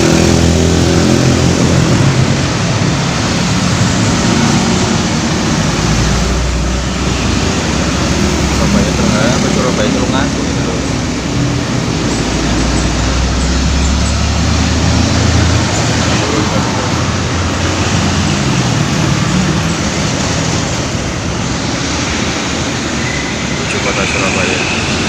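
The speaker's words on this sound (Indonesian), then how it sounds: "ada bus Harapan Jaya" A Harapan Jaya intercity bus on the Surabaya–Trenggalek route runs in heavy arterial road traffic, its steady loud engine drone and road roar continuous throughout, with swells as vehicles pass close by.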